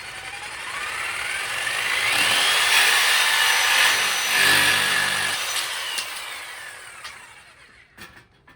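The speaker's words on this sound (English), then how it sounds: "I'm just using this little jigsaw just to speed it up" A small jigsaw cuts through wood for a budget mannequin display, a steady buzzing rasp that swells through the middle and fades into a few sharp knocks near the end, close and loud with no talk.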